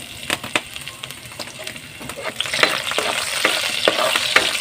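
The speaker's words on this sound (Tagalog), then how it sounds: "So igisa-gisa lang natin ng konti yung bawang natin" Chopped garlic sautés in hot oil in a pan, a dense, crackling sizzle with scattered pops and stirring clicks that grows louder and busier partway through. It is heard up close with no talking.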